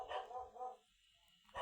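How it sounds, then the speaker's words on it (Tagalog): A dog barks a couple of times nearby, a short pause, then another bark. "Pasensya na po may ingay yung aso."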